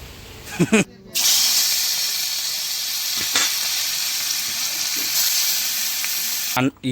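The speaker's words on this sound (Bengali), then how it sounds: "মৌরি দিয়ে রুই মাছ রান্না করছে" Rohu fish fries in a pan with fennel seeds, giving a loud, steady, close sizzle that runs almost unbroken, with brief voices at the start and end.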